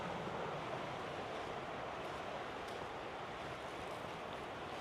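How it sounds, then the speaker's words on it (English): Water rushing steadily beside a sandy riverbank near an abandoned mill, a constant broadband wash that stays faint and even throughout, with some wind on the microphone and no voices. "I hear them sounds of the water rushing."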